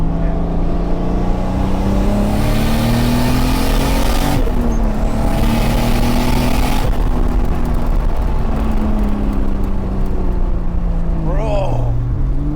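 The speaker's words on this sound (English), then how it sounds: "That stock engine needs to breathe." Stock engine of a 1979 Toyota Cressida luxury saloon revving loud and close, its droning tone rising and falling through several steady pulls, dipping sharply near the end.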